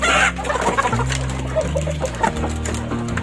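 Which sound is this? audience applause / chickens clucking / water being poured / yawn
chickens clucking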